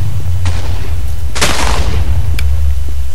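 Bomb blasts in a Minecraft take on Bomberman set on ice: a sharp burst near the start, a bigger loud explosion midway, then a shorter crack, all over a steady low rumble.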